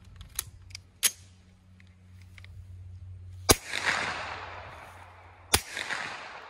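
Suppressed gunshots from a firearm fitted with a Microtech Defense Industries R2K9 suppressor, firing Speer Gold Dot 124 grain +P rounds: two lighter sharp cracks early, then two louder reports spaced apart, each leaving a short ringing tail.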